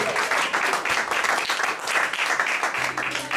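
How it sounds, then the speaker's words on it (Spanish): A church congregation claps in a steady, enthusiastic wash of applause during a Spanish-language service, sustained and fairly close throughout. "Denle un aplauso al Señor, hermano."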